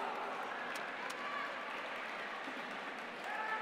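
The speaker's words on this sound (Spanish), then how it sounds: "un fuerte aplauso para ellos" Applause at the finals of a robotics competition after a prize is handed out, a faint and steady wash of many hands clapping across the whole stretch, with murmuring voices in the background.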